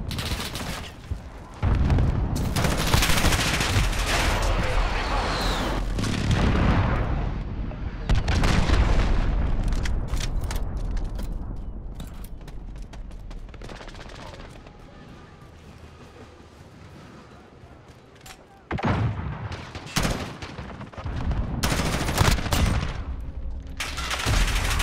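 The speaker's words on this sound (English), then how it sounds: "Allied precision airstrike incoming," Explosions and gunfire from a precision airstrike in Call of Duty Modern Warfare, with loud, dense bursts of rattling fire and booming blasts filling most of the stretch, easing off in a quieter middle section before heavy firing returns.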